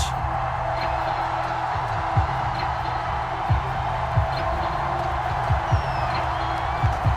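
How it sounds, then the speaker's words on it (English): Dense, steady roar of a sellout stadium crowd at an Atlanta Falcons game in the Madden NFL 22 football video game, with scattered louder whoops and thumps rising out of the constant wash. "Somehow this place got even louder a short time ago as the Falcons were introduced to this sellout crowd"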